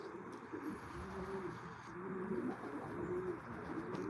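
Pigeons coo in low, soft repeated phrases amid a constant outdoor rumble, several calls overlapping at moderate distance, with faint chirps in the background.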